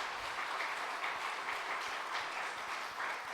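A church congregation applauds with steady, dense clapping at a soft, distant level throughout.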